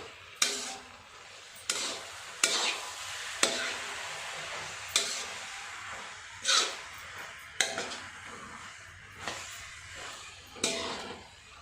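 Chinese noodles being stirred and tossed in an oiled pan, with a steady run of about nine scraping strokes of a utensil against the pan over a soft frying sizzle, close up, no talking.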